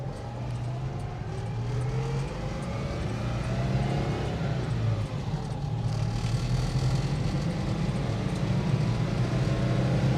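A Citroen Ami 8, a 1960s–70s French classic car, drones steadily while driving, its small engine humming loud and continuous from inside the cabin.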